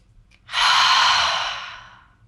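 A single long, audible breath during an ab workout, a soft breathy exhale that swells quickly and then fades out slowly, close and alone.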